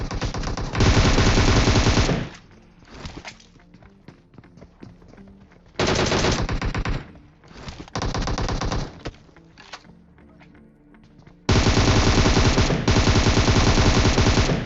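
Gunfire in PUBG, loud close bursts of rapid automatic fire several seconds long, separated by quieter gaps with distant shots and movement, no talk.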